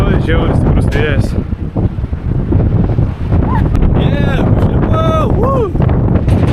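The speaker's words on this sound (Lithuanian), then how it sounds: "Žiauriai stiprus vėjas." Powerful gusts batter a swaying lookout tower in Druskininkai, a loud, close rumble of wind thumping against the microphone throughout, with a voice talking under it.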